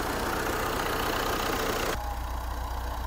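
An old 70-year-old four-cylinder 85-horsepower push-start tractor idles with a steady low rumble, its tone dropping and thinning abruptly partway through.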